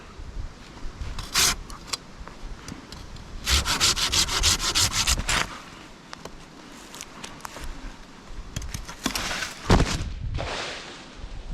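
A Silky Fox Japanese pruning saw cutting through a tree branch up in the canopy, with loud bursts of rasping back-and-forth strokes separated by pauses, heard close and without talk.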